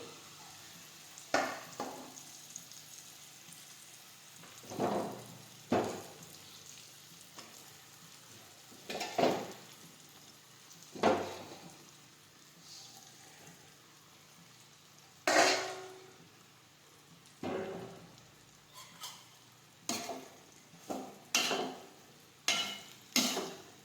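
Roti pieces frying in a pan, with repeated bursts of sizzling and stirring scrapes spaced a few seconds apart over a faint background, growing more frequent toward the end, close and soft, no speech.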